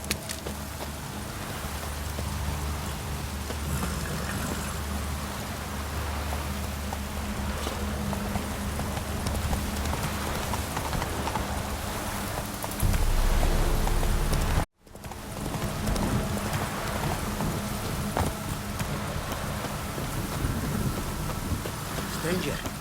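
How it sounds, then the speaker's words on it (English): Heavy rain pours steadily in a storm in The Witcher 3, with low rumbles of thunder rolling underneath, a louder deep roll building before a sudden brief cut, and voices talking over the downpour. "The storm, damn it."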